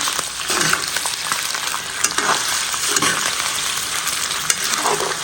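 Chicken thigh meat fries in a pan with a steady broadband sizzle, close and loud, broken by occasional stirring scrapes and with no talk.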